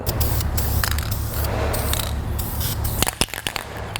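VHT roll bar and chassis paint hisses from an aerosol can onto truck rear suspension parts in close, loud bursts, ending with scrapes and clicks as the can is handled.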